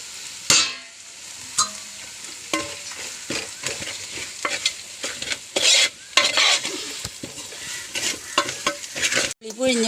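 Ginger fried in a pan with chili and turmeric powder for inji puli, a close steady sizzle broken by repeated scraping stirs and clinks of a spoon against the pan.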